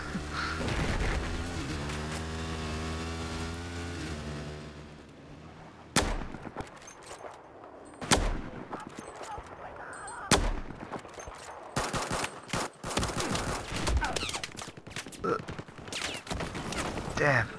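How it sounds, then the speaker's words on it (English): Battlefield 4 gunfire, with scattered loud shots and bursts of automatic fire that grow more frequent toward the end, following a stretch of vehicle engine whine at the start. "We're being shot at?"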